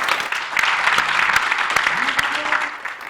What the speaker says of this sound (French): Mesdames et messieurs, applaudissements pour vous sur le plateau